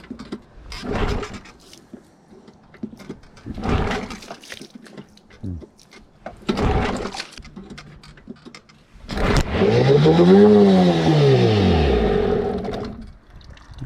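A Nissan Tohatsu 9.8 two-stroke outboard motor runs in a test tank of water. Three separate pull-start yanks come first, then the engine catches and runs loud and close, its buzzing pitch rising and falling as it revs.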